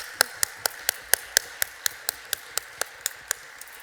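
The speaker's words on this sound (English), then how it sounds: "Let's give them all a round of applause" At a ceremony marking a century of women MPs, one person claps alone in a quiet hall, about fifteen sharp, evenly spaced claps in a steady rhythm, crisp and distinct against near silence.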